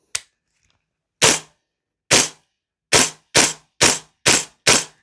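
An EMG CYMA Noveske N4 airsoft rifle fires eight sharp, crisp semi-automatic shots, each a separate loud snap, spaced widely at first and then quickening into a rapid string, heard close with silence between shots.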